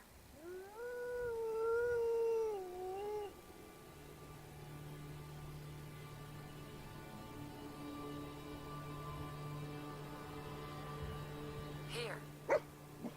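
Dogmeat, the companion dog in Fallout 4 VR, lets out a wavering howl for a few seconds, fairly close and clear, followed by a low steady hum with a couple of sharp clicks near the end.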